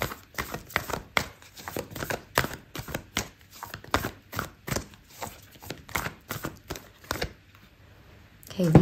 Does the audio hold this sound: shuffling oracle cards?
yes